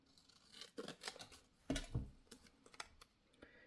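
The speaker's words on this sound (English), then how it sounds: "I'm able to cut some little pieces here to put them inside." Scissors snip small pieces of watercolor paper in a string of quick, close, crisp cuts with short pauses between them, no voices.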